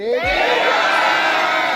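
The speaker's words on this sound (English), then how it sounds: "when I count to 3, you have to scream his name" A cruise audience in Goa screams a name together on cue, a loud, sustained crowd roar that swells at once and holds steady throughout.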